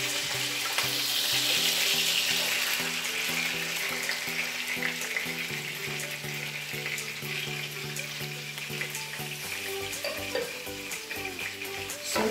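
Onion and garlic sauté in a pan for an eggplant dish, a continuous, moderately loud sizzle with a soft sustained tonal hum beneath it and no talking.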